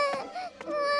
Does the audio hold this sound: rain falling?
no